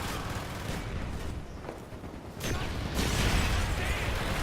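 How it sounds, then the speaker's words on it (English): Mortar fire in a Vietnam war video game: a dense, noisy rumble of launches and distant blasts, with a louder burst near the end, continuous and mid-distance. "Firing mortar."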